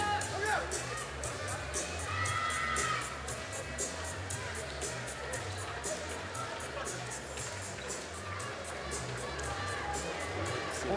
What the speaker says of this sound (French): Applaudissements sportifs pour le numéro 12